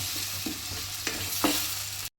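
Tomatoes tumble into softened onions frying in a pan for an Arabic chicken oats shorba, giving a steady sizzle with a few sharp stirring scrapes, close and alone, before cutting off abruptly.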